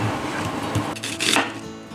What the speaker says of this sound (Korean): 칼질이 하면 할수록 느는 느낌이